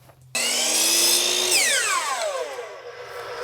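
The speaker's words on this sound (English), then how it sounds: "I'm going to disc it to this line." Disc sander spinning up and grinding a wood piece down to a marked line in a woodworking shop, a loud, steady high whine that starts abruptly and then drops in pitch as the wood presses against the disc.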